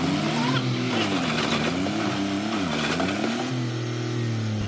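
A tractor stuck in mud with one tyre half sunk revs its engine hard, the pitch rising and falling in strained surges, loud and close throughout.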